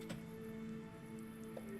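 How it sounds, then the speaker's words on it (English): Water dripping and pattering from a leaking ceiling indoors, a quiet, steady wash of drops with a couple of slightly sharper splashes over a low constant hum, no talking. "Carl, it's raining from the ceiling"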